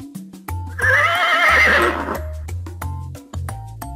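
A horse whinnies loudly for about a second and a half in the middle of a quiz game's repeating electronic music and beeps, with short plink tones continuing before and after.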